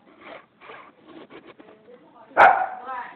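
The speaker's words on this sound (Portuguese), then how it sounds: "O cachorro da Tamara é igualzinho ela, é encrenqueira, olha lá." Soft rustling and murmured voices, then a single sharp, loud dog bark close by that trails off.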